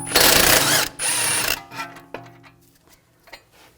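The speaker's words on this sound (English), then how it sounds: "Using a 16mm wrench, 16mm socket, take this nut and bolt out." A 16mm socket ratchet works a nut and bolt loose on a 2007-2013 BMW X5 front suspension, giving a loud close burst of rapid clicking that tapers into faint scattered ticks and handling noises.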